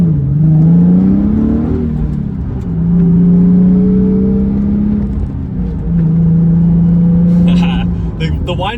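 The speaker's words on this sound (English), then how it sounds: "the whine of the gears I actually do like a lot" A 2017 Nissan 370Z accelerating hard, its gear whine rising in pitch through each pull and holding steady between shifts over a loud engine drone, with a voice talking over it.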